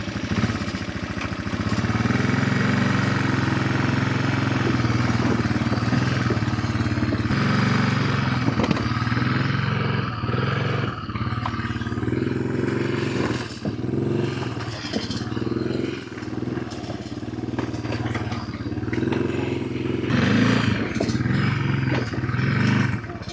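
An old ATV quad's engine runs on a trail while clearing for firewood, a loud, close, continuous rumbling roar with clattering and scraping over uneven ground, no speech.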